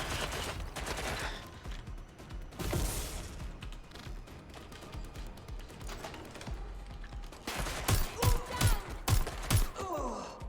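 Sporadic bursts of gunfire in the Watch Dogs Legion video game, fairly quiet and mixed with game ambience, with sharper rapid shots clustered toward the end.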